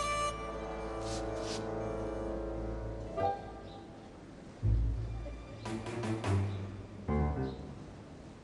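A horse whinnies in an Egyptian animated comedy series, its long, wavering cry rising and falling near the start and then followed by thuds and scattered action sounds.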